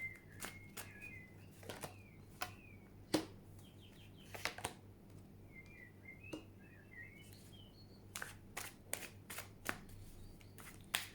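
Tarot cards are shuffled in quick soft riffles and taps, with faint birdsong chirping in the background and no talking.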